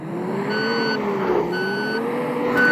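Reversing beeps from a bus in the Bus Simulator Ultimate video game, three evenly spaced electronic beeps over a steady engine hum.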